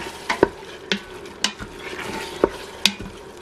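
Spoon stirring taco-seasoned ground meat sautéing in an Instant Pot, giving a steady low sizzle with several sharp scraping clinks against the pot at irregular intervals, close by and without talk.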